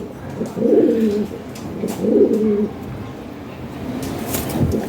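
A male fancy pigeon of the Lahori Serazi breed, imported stock, gives two loud, close rolling coos, then a softer third toward the end, over a faint background hum.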